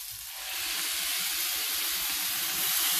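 Pureed tomatoes hit a hot pan for okra masala curry, setting off a loud, steady hiss and sizzle that swells slightly and holds throughout.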